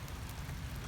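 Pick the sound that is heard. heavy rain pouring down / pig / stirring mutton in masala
heavy rain pouring down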